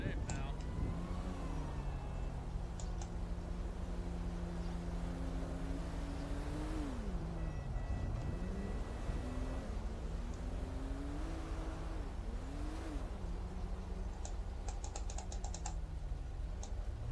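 A video game car accelerates through a red light while overtaking, its engine note climbing and falling through the gears. The engine sounds fairly quiet, and someone talks over it.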